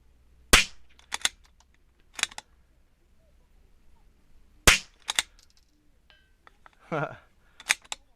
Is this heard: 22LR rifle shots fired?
yes